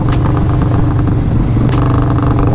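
A Harley-Davidson motorcycle engine idles loudly and close by, with a steady low rumbling throb and some mechanical clatter.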